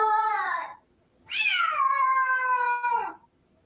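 A house cat gives two loud, drawn-out meows close by, the first shorter and falling, the second longer and wavering, with a brief quiet gap between them.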